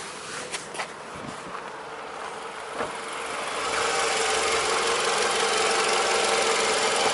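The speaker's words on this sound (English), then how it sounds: "there is this Toyota Camry's VVT-i engine, and this engine is in excellent condition" A Toyota Camry 2.4 VVT-i engine in excellent condition idles up close under an open bonnet, its steady buzzing hum growing louder and fuller partway through, with no talk.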